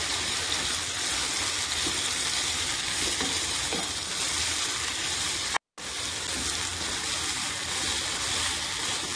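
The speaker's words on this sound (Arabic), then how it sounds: "والحين أخلطه" Chicken curry sizzles and is stirred in a frying pan. There is a steady, close frying hiss with soft scraping stirs throughout, and it cuts out briefly midway.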